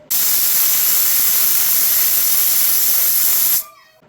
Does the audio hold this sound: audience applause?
no